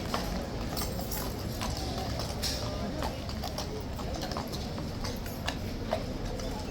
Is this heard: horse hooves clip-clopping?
yes